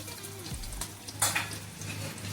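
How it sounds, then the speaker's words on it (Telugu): Homemade ginger garlic paste hits hot oil in a pan, giving a brief loud sizzle with a few clinks of a utensil against the cookware, then a steady low frying hiss. "ఇది కూడా ఆయిల్లో ఫ్రై అవ్వాలి."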